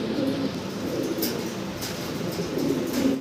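A pair of fancy pigeons coos in a low, steady burble close by, with a few faint higher chirps over a constant background hum.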